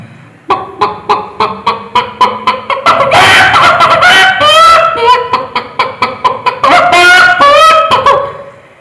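A voice imitates a hen's clucking after laying: a run of rhythmic short clucks, then loud drawn-out cackling calls, repeated twice.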